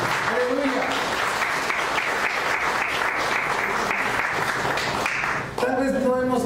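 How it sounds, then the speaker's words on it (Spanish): Sustained applause from a church congregation, loud and dense for about five and a half seconds, briefly dipping before resuming with a voice rising over the clapping. "Den una ofrenda de palmas al Señor"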